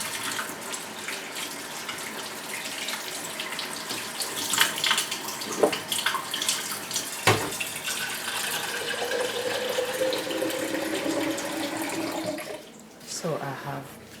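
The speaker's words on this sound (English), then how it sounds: "Let me wash my hands." Tap water runs steadily into a kitchen sink as hands are washed, a continuous splashing hiss that swells and shifts midway, then drops off near the end.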